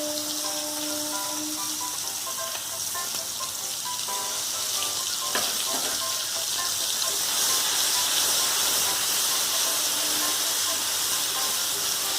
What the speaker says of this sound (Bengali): একটা কাঁচা লঙ্কা দিলাম, ওর মধ্যে পোস্ত বাটাটা দিয়ে দিলাম